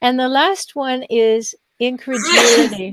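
A sneeze bursts out near the end, broadband and loud, right after a woman's steady speech and a short pause, during a live stream talk.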